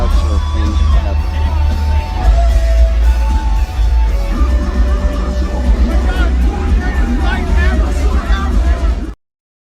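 A festival crowd roars while people crowd surf, a dense, loud wall of cheering, whooping and yelling over booming music that runs continuously, then cuts off abruptly.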